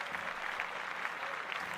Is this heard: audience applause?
yes